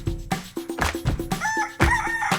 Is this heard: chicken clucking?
yes